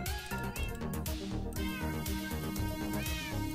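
Minecraft cat meowing repeatedly in the game, several clear meows in a row over busy game sounds, with no speech.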